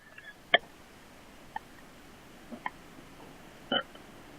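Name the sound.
burp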